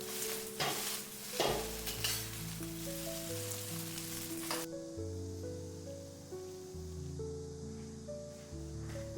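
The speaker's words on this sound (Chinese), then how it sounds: "下入擠乾水分的苦瓜，大火快速翻炒" Squeezed-dry bitter melon stir-fried in a little oil over high heat, a steady hiss and rustle of tossing under continuous background music, with the sizzle fading after the first few seconds.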